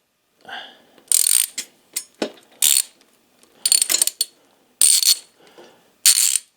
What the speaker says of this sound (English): we should have a 15mm bolt for that